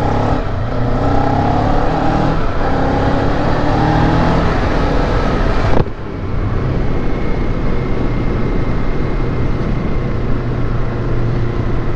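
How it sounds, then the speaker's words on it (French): Kawasaki Z500 motorcycle engine and exhaust running steadily and loud throughout, a continuous discreet drone with layered engine tones, shifting briefly midway before settling into the same hum. "L'échappement est discret"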